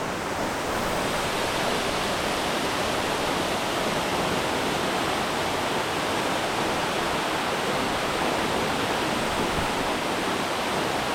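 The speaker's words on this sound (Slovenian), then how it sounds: "Slap skozi naravno okno." Waterfall in Istria pouring through a natural rock window, a steady, loud broadband rush of falling water that holds unbroken and close for the whole stretch, with no voices.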